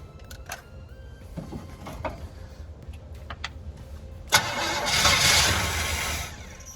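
A 1981 GMC Sierra pickup engine with a working choke cranks through several short clicks and bursts, then catches and runs with a loud, rough roar close by.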